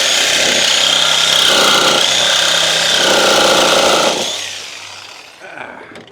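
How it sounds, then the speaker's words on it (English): A reciprocating saw, a Sawzall, cuts into part of a Chevrolet S10 on a budget build, buzzing loud and harsh up close for about four seconds before winding down. "Is there enough room to fit a Sawzall blade yet?"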